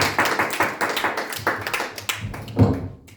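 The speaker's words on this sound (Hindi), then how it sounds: "तालियां बजाते हैं" A church congregation at a Sunday service claps in welcome, a loud, close and uneven burst of hand claps with individual slaps standing out, tapering off after about three seconds.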